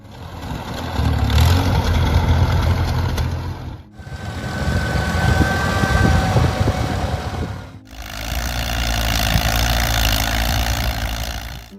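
A vintage Allis-Chalmers D10 tractor engine idles steadily with a low, continuous rumble. It runs in three sustained stretches split by brief dips, and no voices are present.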